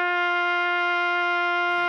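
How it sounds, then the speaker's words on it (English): A trumpet sustains a steady concert F, a bright, rich tone with strong stacked overtones, held evenly for nearly two seconds before a short burst of breathy noise at the end. "Let's take a look at this concert F that I played on my trumpet."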